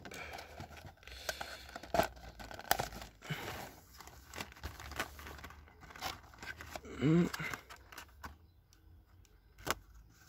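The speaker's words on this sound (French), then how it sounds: "on va quand même ouvrir la boîte" Cardboard and tape being torn and pulled open on an espresso machine's box, with crinkling packaging and scattered scraping sounds, fairly quiet and close.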